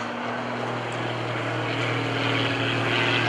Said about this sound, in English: Watch as he pulls up for the square loop.